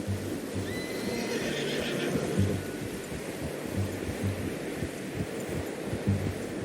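A horse in Red Dead Redemption 2 whinnies over a steady low rumble and rhythmic thudding, like hooves or a heartbeat-like throb, with no talking.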